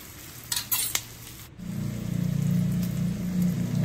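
Onions being stirred and fried in a pan: a few sharp metal clinks of a utensil against the pan, then a steady, close frying sizzle that continues to the end.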